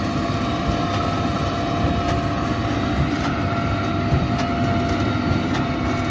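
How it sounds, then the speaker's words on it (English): A heavy diesel tractor engine drones steadily and loudly while working under load and puffing exhaust smoke, with constant low rumble and faint rhythmic clatter, no talking. "She's working the tractor a little bit."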